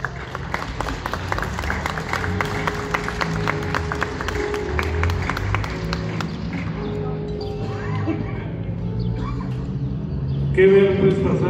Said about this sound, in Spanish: Fuerte el aplauso, señor.